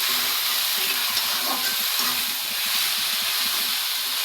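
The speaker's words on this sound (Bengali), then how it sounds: "এগুলো দিয়ে ভালোভাবে নেড়ে চেড়ে মেশাইতে হবে, যতক্ষণ না পর্যন্ত একটু লাল লাল হয়ে যায়।" Spice paste being stirred and fried in a pan while cooking an egg korma, giving a steady dense sizzle with scraping stir strokes throughout, close and fairly loud, with no talk.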